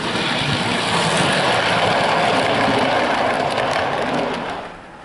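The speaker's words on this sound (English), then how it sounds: "So now we come to the running performance of both the O2 and the LSWR gate stock coaches." A model Adams O2 tank locomotive runs with LSWR gate stock coaches, producing a steady, loud rushing hum of motor and wheels that fades away at the end.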